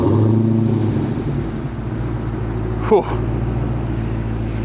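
A 2019 Dodge Challenger Hellcat runs after a remote start, its engine holding a loud, steady low rumble with a brief rising rev near the end. A person exhales audibly partway through.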